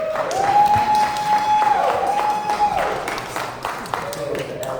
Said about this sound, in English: ask that please hold your applause